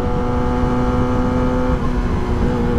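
A car engine drones steadily at close range with a sustained hum and no distinct rev peaks, under a continuous loud roar; a quick shifter is fitted, but the shifts themselves are not clearly picked out.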